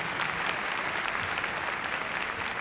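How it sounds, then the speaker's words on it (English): Audience at a Crufts dog show heelwork to music freestyle competition applauding a finished routine, a dense, steady wash of clapping from a large crowd that fills the whole stretch. "Give her a big round of applause,"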